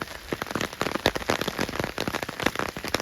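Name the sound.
rain falling on the monkey tree at the beach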